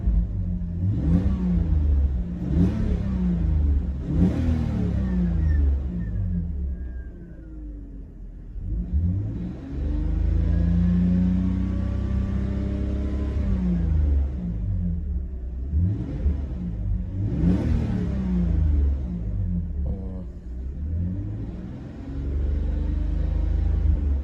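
An engine in an abandoned BMW E46 that is being brought back to life revs up repeatedly, in loud, rising bursts that fall back between them, heard close by over a low rumbling idle, with no talking.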